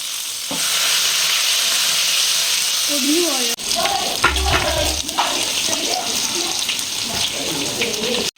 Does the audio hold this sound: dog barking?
no